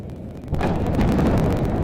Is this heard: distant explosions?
yes